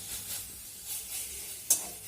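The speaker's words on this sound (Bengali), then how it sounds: "এই পাতাটাকে এমনভাবে ভেজে নিতে হবে যেন এই পাতার কাঁচা গন্ধটা না থাকে।" Leaves frying in a pan for a Bengali bharta give a short, close hiss of sizzling with gentle stirring swells and one sharp scrape near the end.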